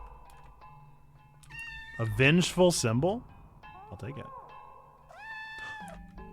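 A cat meows loudly in the video game OFF, a strained, wavering cry lasting about a second in the middle, with quieter tonal game sounds around it and a person talking over parts of it.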